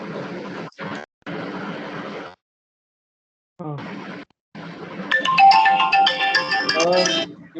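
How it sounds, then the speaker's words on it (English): A mobile phone ringtone interrupts an online lecture, playing a loud, bright, melodic chime pattern of repeating tones for about two and a half seconds after stretches of nearby speech. "I never have such ringtone."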